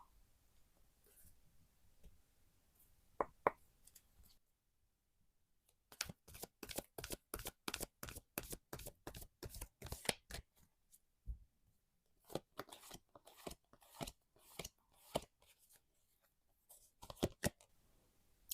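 Tarot cards are shuffled close up in long runs of rapid, crisp riffling clicks, with a few quiet card handling sounds at first and brief pauses between bursts.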